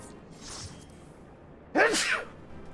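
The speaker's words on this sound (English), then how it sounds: "I sneezed." A single person sneezes sharply and close, a breathy hiss followed by a loud, abrupt burst, preceded by a faint inhale-like rustle.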